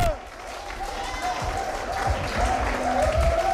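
A crowd claps and cheers loudly with whistles rising above the steady applause.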